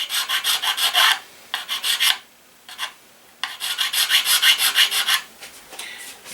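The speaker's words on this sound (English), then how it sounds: "file down that paint, or I should say the putty, to make" A hand file rasps over putty on a model cannon's side wall in quick rhythmic strokes, grouped in bursts with short pauses between, close and crisp with no voices.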